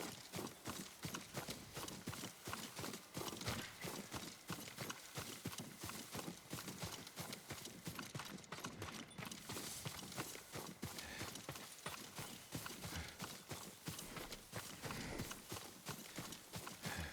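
Horse hooves clip-clop steadily in a rhythmic walking or trotting pattern through the Ghost of Tsushima video game, continuous and fairly close over a dense bed of background sound, with no voices.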